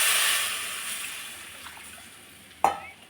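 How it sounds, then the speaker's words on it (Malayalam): Water is poured into a hot pan of fried onions and spices for a fish curry, giving a steady hiss and sizzle that slowly dies down, then a sharp splash and rattle near the end. "ഇനി ആവശ്യത്തിന് വെള്ളം ഒഴിക്കണം."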